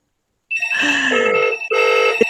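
A telephone rings with a spam call, two loud close electronic ring bursts after a moment of silence, with no talk.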